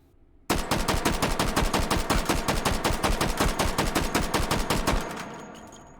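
A B&T APC 45 carbine in the H3VR game fires rapid semi-auto shots, around thirty sharp reports in a fast, even rhythm, loud and close, then a short ringing tail after the last shot.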